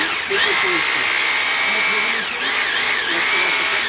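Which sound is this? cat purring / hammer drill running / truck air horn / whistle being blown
hammer drill running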